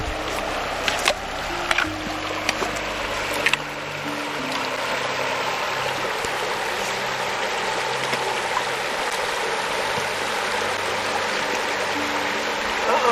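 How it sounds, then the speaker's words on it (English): A hiker in shoes wades across Hillby Creek on the Pinhoti Trail in Alabama, with a steady rushing of stream water and a few sharp splashes from steps near the start. "I'm gonna try to ford Hillby Creek here without taking off my shoes."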